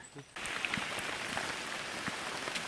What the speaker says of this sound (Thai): ฝนตกครับวันนี้